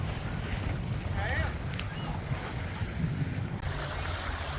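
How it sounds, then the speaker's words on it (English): Steady wind noise and low rumble aboard a Catalina 30 sailboat under sail, broadband and continuous, with brief faint voices in the background. "This is the best sailing we've done, man. It's the best wind we've had."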